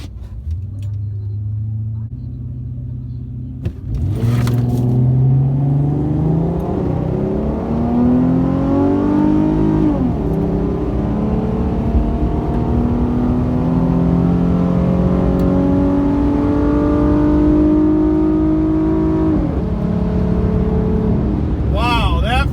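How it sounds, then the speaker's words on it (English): Nitrous-equipped Mopar Dodge Charger launching down the Orlando Speed World drag strip, its engine note climbing loud and steady through several rising gear pulls for the full run, close and dominant. "Nitrous pass, here we go."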